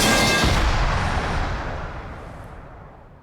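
A single loud gunshot in the Yakuza 0 video game opens with a sharp blast and then fades into a long, booming decay that trails off over about three seconds.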